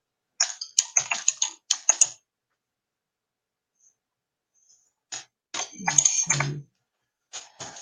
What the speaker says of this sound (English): I'm going to type this real quick here.